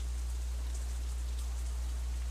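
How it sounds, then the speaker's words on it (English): Steady rain falls in the Katawa Shoujo visual novel, a constant wash of drops hitting a surface over a low hum, continuous and even with no voices. "I don't even know why it's raining."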